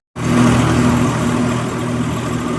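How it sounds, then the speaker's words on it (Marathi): A tractor engine starts abruptly and idles with a steady, loud, rumbling chug, close by, with no voices. "त्या ट्रॅक्टरवर आता आपी जाणार आहोत"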